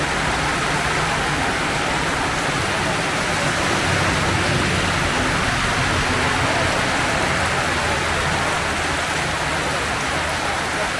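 Heavy rain pours down steadily, a dense, loud wash of noise with no break, heard from shelter in a closed shop during a motorbike trip toward Siliguri.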